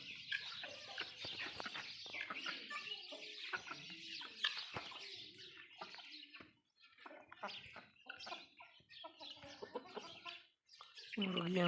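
A hen among domestic chickens clucking repeatedly in close, busy bursts, with other fowl calls mixed in and brief quieter gaps before a louder squawk at the end.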